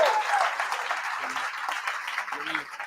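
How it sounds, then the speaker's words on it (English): Applause from a live team-training audience, a sustained wash of many hands clapping at moderate loudness for nearly three seconds, thinning toward the end with faint voices underneath. "give yourself a round of applause for making a beautiful decision"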